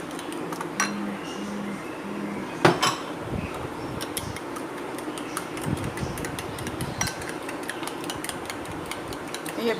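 French toast batter with sugar being whisked in a bowl, with irregular metallic clinks and scrapes of utensil against the dish, close and fairly busy, with no voices.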